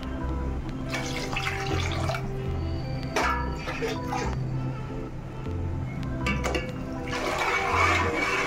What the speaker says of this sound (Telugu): 3 గ్లాసుల వాటర్ పోసుకుంటున్నాను।